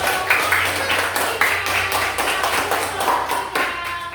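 Classroom of pupils clapping their hands together, a continuous dense patter of many claps at close range, steady and fairly loud with no talk over it.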